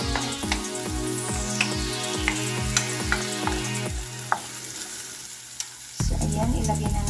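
Onion and garlic sauté in a pan, a steady sizzle broken by a quick run of rhythmic stirring scrapes, then a louder, denser crackle near the end; no voices.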